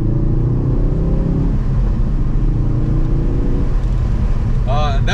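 A Ford Focus RS Mk3 engine rumbles loudly from inside the car, rising in pitch through a gear before dropping at a shift and climbing again, with steady road and wind roar throughout.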